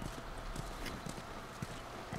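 Horse hooves clip-clopping at a slow, steady walk in The Last of Us Remastered, a soft, fairly close series of hollow knocks over a low ambient bed.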